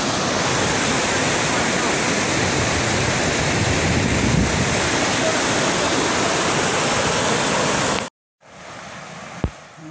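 A rushing mountain river in the White Mountains, a loud continuous roar of fast water for about eight seconds, then a sudden cut to a quieter stretch with a brief knock.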